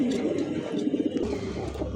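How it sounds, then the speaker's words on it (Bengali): A single long-tail pigeon coos nearby in low, throaty pulses over a faint background rumble, with no talking. "দর্শক এই মুহূর্তে দেখতে পাচ্ছেন খুব সুন্দর একটা সিঙ্গেল একটা কবুতর"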